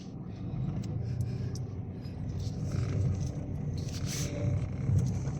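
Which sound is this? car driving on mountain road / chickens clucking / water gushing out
car driving on mountain road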